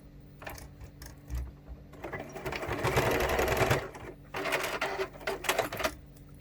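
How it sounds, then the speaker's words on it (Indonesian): A sewing machine stitches down the edge of a fabric pouch in short, rapid mechanical bursts, with a long run of stitching in the middle, brief pauses, and a final stop-start flurry close by. "Bagian ujung juga saya jahit ke bawah."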